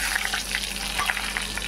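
Fish pieces fry in hot oil with dried red chillies, giving a steady close sizzle with light popping and crackling throughout and no speech.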